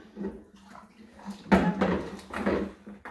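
Gallon plastic containers are washed up during morning chores under running water, which splashes and gurgles in uneven surges, growing louder midway with faint knocks of plastic.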